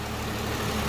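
Hyundai Genesis 3.8L engine idling the day after reassembly on its first startup, a steady, close, low rumbling hum that holds even throughout with no other sounds.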